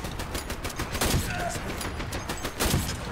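Rapid automatic turret fire in the Dirty Bomb shooter game, a dense burst of sharp gunshots rattling continuously for about three seconds with heavier thumps near the middle and end, loud and close.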